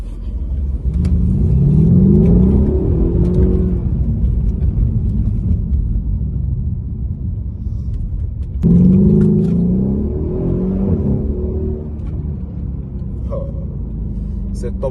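A Mercedes CLS 63 AMG accelerates hard from inside the cabin, a loud deep engine roar rising in two surges, with people talking over it.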